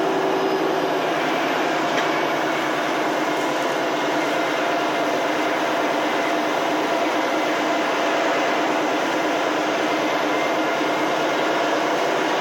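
Steady broadband rumble and hiss drift in from an old rail maintenance yard, a continuous even drone of rail machinery or trains at a distance, with no talking.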